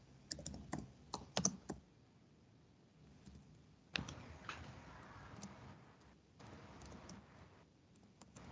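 Keys on a computer keyboard clatter faintly in short bursts of typing during a class, with quiet pauses between the clicks and a soft rustle behind.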